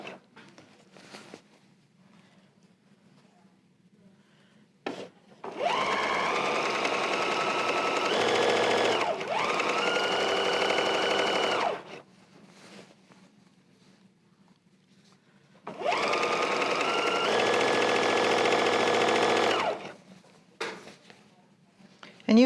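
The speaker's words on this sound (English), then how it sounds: "I'm going to stitch down the long side, keeping your edges even, 1/4 inch seam allowance." A sewing machine stitches the long seam of a table runner with a quarter-inch seam allowance, whirring steadily in two long runs separated by quiet pauses and scattered clicks.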